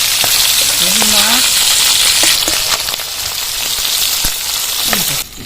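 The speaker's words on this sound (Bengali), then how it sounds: "হালকা ভেজে নিতে হবে এইভাবে মাছগুলো ভেজে নিতে হবে" Live singhi fish fry lightly in hot oil, with a loud, steady hiss and crackle and occasional sharp pops throughout, while a voice speaks briefly over it.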